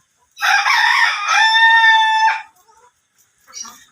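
A single loud, close rooster crow stretches for about two seconds, followed by a short quiet trailing call.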